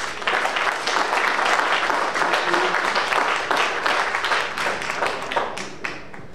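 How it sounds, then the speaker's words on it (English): An audience at a children's music program applauds steadily for about six seconds, a dense, even wash of many hands clapping that fades slightly toward the end, with little talk. "Again, a round of applause."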